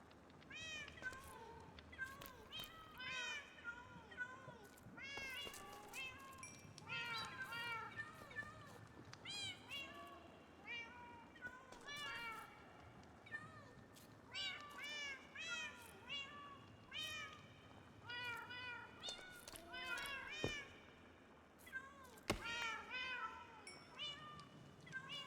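Cats meowing repeatedly in the Minecraft Cobblemon video game, many overlapping mews in quick bursts throughout, fairly loud and close, mixed with a steady game background.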